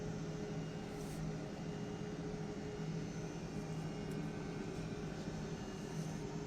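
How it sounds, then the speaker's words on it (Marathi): An airplane flies overhead while turning back to line up with the runway for another landing attempt, its steady engine drone holding fairly level and distant throughout, with no talk. "आता आपण त्याच दिशेने चालू आहोत आणि विमान आता डावीकडे वळणार आहे"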